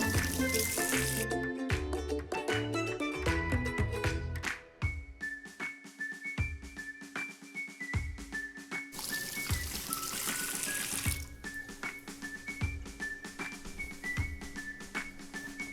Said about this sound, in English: I'm going to wash my hands quick though, because I have peanut butter all over them.